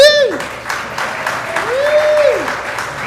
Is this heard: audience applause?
yes